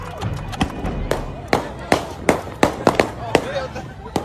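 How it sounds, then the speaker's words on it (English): Gunfire from multiple shooters at a large crowd gathered for an unsanctioned street takeover car event, heard as a string of sharp, irregular cracks, some close together, over steady crowd noise and voices. "Gunfire suddenly erupts from what witnesses describe as multiple shooters"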